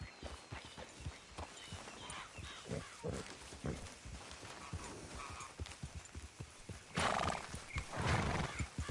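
A horse in Red Dead Redemption 2 walking along toward a beach, with a steady clip-clop of hooves throughout and a neigh near the end, heard up close without talk.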